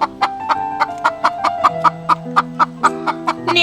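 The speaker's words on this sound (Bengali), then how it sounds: "এই সকাল সকাল গরু মুরগি সব একসাথে ডাকাডাকি শুরু করেছে।" Farmyard chickens cluck in the morning in a rapid, even series of short calls, close and clear over a faint steady tone. No cow calls stand out.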